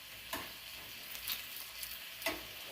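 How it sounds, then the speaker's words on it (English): Bacon sizzles quietly in a frying pan over medium-low heat, a steady soft hiss broken by a few sharp pops and spatters, with no one talking. "our bacon's cooking down pretty nice"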